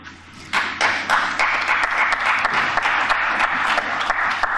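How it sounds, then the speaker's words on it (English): Sparse applause from a small handful of people at a press conference, uneven individual claps over a steady room hum, fairly close and without talk. "Here, I'm going to show you the 3 people clapping."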